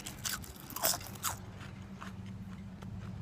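Crispy fries crunched while chewing, a few sharp bites early on followed by softer chewing, close and fairly quiet with no talk.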